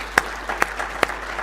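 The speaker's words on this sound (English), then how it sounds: "Please join me applauding our panelists." An audience at an international law panel discussion claps for the panelists in a thin, sparse round of applause, a few sharp individual claps standing out.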